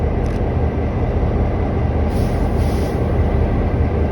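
Spirit of the Outback passenger train hauled by 24 class diesel locomotives, heard as a steady, loud low rumble and rolling roar from on board throughout, with a faint higher hiss at times.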